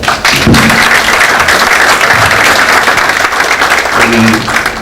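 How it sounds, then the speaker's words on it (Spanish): Audience at a conference on numerical modelling applauds a speaker, a loud continuous burst of clapping with a few scattered thumps and brief voices mixed in. "Un aplauso para él, por favor"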